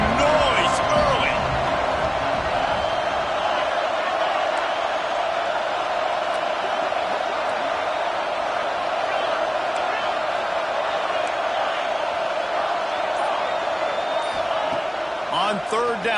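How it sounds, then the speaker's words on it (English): A football stadium crowd keeps up a loud, sustained roar of cheering and noise, with a commentator talking over it throughout. "This crowd bringing the energy and noise early."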